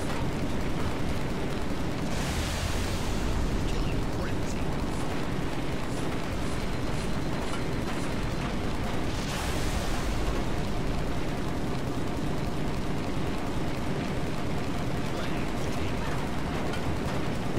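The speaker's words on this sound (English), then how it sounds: "He's throwing frag grenades at your hornet, Barry." Frag grenade blasts in Halo MCC multiplayer on the Avalanche map, two loud bursts early and mid-way over a constant dense roar of gameplay noise and scattered gunfire.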